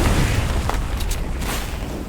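Video game battle with a tank firing on the player: dense, continuous low booms and blasts rumble close and loud throughout, with occasional sharper pops and no voices.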